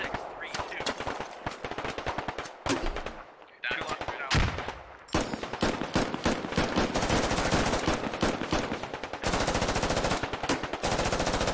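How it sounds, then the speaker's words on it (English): Rapid bursts of automatic rifle and machine-gun fire from the Squad video game, loud and close, rattle almost continuously with brief gaps and overlapping volleys in a heavy firefight. "Efang's trying to throw some rounds towards Fulcrum and a fire team here."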